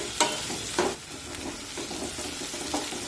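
Onion frying in a pan over a medium flame, a steady sizzle broken by several scraping stirs of a spatula, close and alone without speech.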